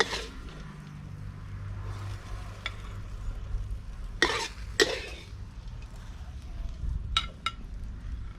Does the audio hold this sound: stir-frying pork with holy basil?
yes